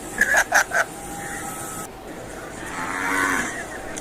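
A drawn-out, low cow moo swells and fades after a few short clucking calls, heard close and without talking.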